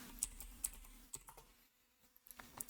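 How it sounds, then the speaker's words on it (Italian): Scattered keystrokes on a computer keyboard as a search term is typed into a browser, a few quick clustered taps, a pause of near silence, then a few more clicks close by. "nel motore di ricerca digitiamo Rufus"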